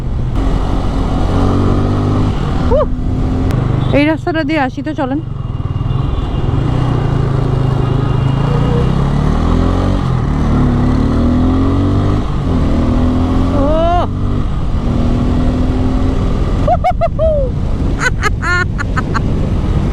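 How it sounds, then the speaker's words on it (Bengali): A Bajaj Pulsar N250 motorcycle on the road gives off a steady, close engine drone with a wind rush, while a rider talks over it at intervals. "আপাতত এটাই হচ্ছে আমার রাইডিং বাইক"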